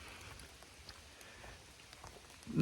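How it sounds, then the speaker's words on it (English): Soft, scattered droplets patter steadily from trees after rain onto leaves and ground along the Appalachian Trail, a gentle irregular dripping with no voices. "It's dripping out the trees pretty heavy."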